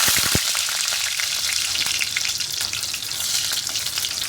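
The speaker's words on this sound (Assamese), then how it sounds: "মই নেহুৰ কেইটামান প্ৰথমতে এনেকৈ ফ্ৰাই কৰি লৈছিলোঁ তেলত" Garlic cloves frying in oil while masala for pav bhaji is prepared: a loud, dense, continuous sizzle with an initial sharp clatter, no voices.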